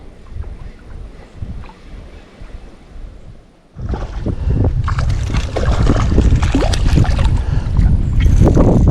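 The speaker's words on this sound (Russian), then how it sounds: "Еще одна лодка идет." Another boat passes on a river in Mordovia in late July. After a few quiet seconds, a loud, broad rushing surge sets in and keeps building, close by.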